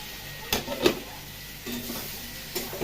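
Local tomatoes frying in a pan are stirred with a utensil, a few distinct scraping knocks against the pan over a soft, low sizzle, close and brief.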